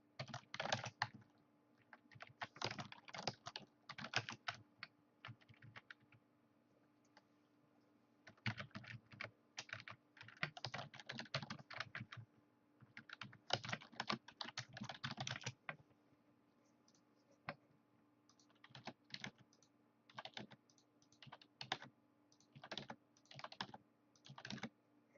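Keyboard typing on a computer keyboard comes in irregular bursts of quiet, close key clicks separated by short pauses, with a faint steady hum underneath.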